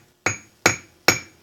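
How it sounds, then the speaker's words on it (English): A hammer striking a car door cable end laid on a piece of steel, three sharp metallic blows at an even pace, close and loud with quick ringing decay. "take a hammer, flatten it out slightly."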